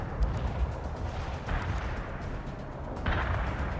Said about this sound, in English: Wilco, fire mission received. Artillery barrage inbound.